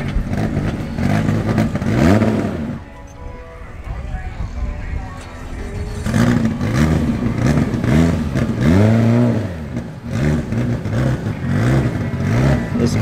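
An all-wheel-drive Honda EG race car with a K-series engine accelerates hard at a drag strip. Engine revs rise and fall through repeated upshifts, loud and close, with a commentator talking over it throughout.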